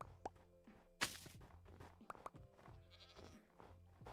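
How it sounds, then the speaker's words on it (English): Goats in Minecraft give a few short, sharp bleats against a busy game background, with small clicks and thumps scattered in between. "let the goats and the foxes free"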